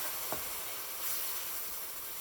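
Milk sizzles in a hot pan: a steady, bright hiss that holds evenly throughout, close by, with no voices.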